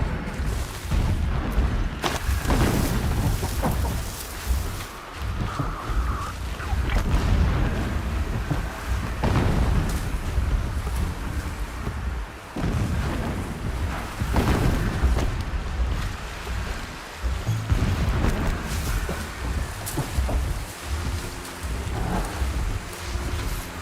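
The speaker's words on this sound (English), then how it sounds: "Explosions in the distance." Distant explosions rumble in the video game Horizon Zero Dawn, several deep booms rolling out at irregular intervals over a steady low wash of ambient game sound, with no talking.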